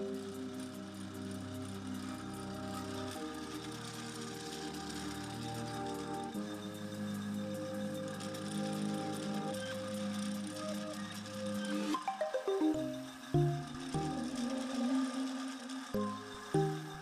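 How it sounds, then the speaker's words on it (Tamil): A hawai slipper drilling machine hums and whirs steadily while making holes in the backs of slippers, later breaking into uneven pulsing bursts, moderately loud and without talk. "இது ஹவாய் ஸ்லிப்பர் ட்ரில்லிங் மிஷின்."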